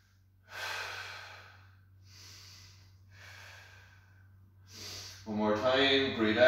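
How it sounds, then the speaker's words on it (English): Deep exercise breathing during a twisting workout: slow, audible breaths in and out in separate long rushes of air, with a steady low hum underneath and a voice starting up at the end. "Breath in, breath out."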